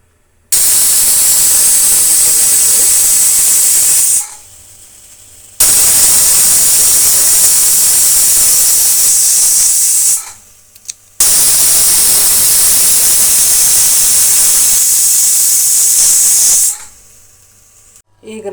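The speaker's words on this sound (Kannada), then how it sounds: "ಮೂರು ವಿಜಲ್ ಕೂಗಿಸ್ಕೊಂಬಿಡೋಣ" Pressure cooker of spinach egg biryani venting three loud bursts of hissing steam whistle, each lasting several seconds, separated by brief pauses.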